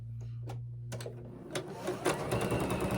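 A sewing machine stitches pieces of a scrappy rainbow heart quilt together, its motor hum running steadily and growing busier and louder toward the end, with light handling noises near the start.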